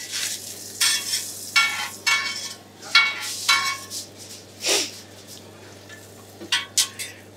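Food frying in Amul butter in a pan for bhuna gosht or butter chicken. A steady sizzle runs throughout, broken by repeated loud scraping and stirring strokes of a utensil against the pan, with no talk.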